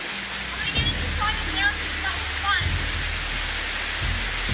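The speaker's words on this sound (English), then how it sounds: "The water's been flowing through here." Water rushing through a rainforest creek at Crystal Cascades, a steady loud broadband wash, with faint voices and a few low thumps from footsteps mixed in.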